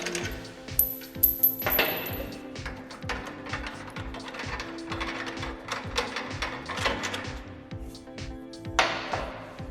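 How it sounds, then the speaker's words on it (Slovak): Mechanical work on a panel saw fence, with bolts being loosened and unscrewed under a busy background of clicks, taps and metallic rattles that continue steadily, close and moderately loud. "Vyšrobujú sa kompletne spodné skrutky, ktoré pravítko držia."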